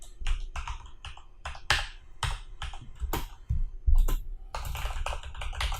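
Rapid, uneven keystrokes on a computer keyboard while PHP code for a loop is typed, close and fairly loud, with clustered clicks and a few heavier thumps, no talking.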